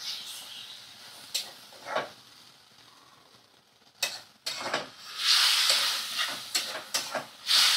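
Water splashed into a hot pan of frying food sets off bursts of hissing steam and sizzle, with sharp crackles and stirring scrapes rising and falling close by.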